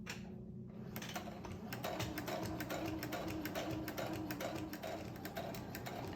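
A sewing machine stitches steadily along the edge of a quilt, producing a continuous rapid mechanical chatter of needle strokes that runs from start to finish at moderate level.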